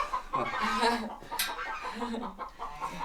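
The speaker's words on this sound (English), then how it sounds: "there's a chicken back there" Chicken clucks and soft fowl calls mixed with background noise and some faint voices, close by, over about three seconds.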